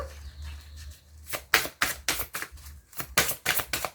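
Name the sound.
shuffling and drawing oracle cards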